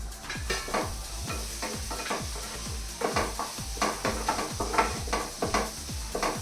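Tomato masala with ginger-garlic paste and ground poppy seeds frying in a pan. Repeated rhythmic spatula scrapes and stirring strokes sound over a soft, steady sizzle.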